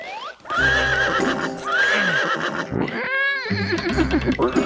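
A cartoon horse in a 3D animated kids' show neighs loudly in repeated whinnies, with clip-clop hoof sounds and a rising, warbling call near the end, close and prominent without talk.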